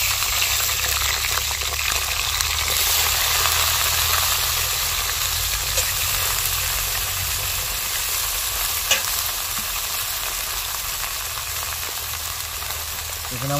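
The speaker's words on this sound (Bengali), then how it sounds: "এবার আমি দিয়ে দিচ্ছি বেগুনগুলো।" Eggplant pieces fry in hot oil with black cumin, giving a loud, steady sizzle and hiss with occasional stirring scrapes, close up and without talk.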